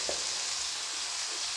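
Chili powder and turmeric fry in a pan with a steady, soft, close sizzle that holds evenly throughout the short moment.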